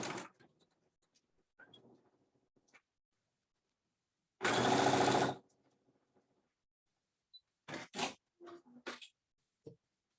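A sewing machine runs in one loud, close burst of about a second while fabric squares are stitched together in pairs, set among quiet handling clicks and short rustles before and after.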